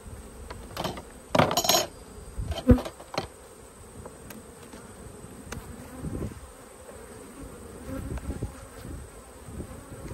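Bees buzzing around an open hive during a beekeeper's inspection, a steady close drone with sharp knocks and clatters from frames being handled, including a few loud hits early on.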